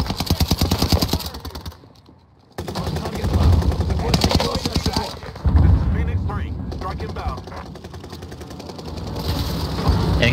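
Airstrike gunfire in the video game Warzone Rebirth Island, loud sustained rapid bursts of gunfire and blasts that stop briefly and then resume, with players talking over the shooting.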